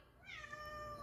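A house cat meows once, a rising and falling cry with clear harmonics, fairly close and alone, with no talk over it.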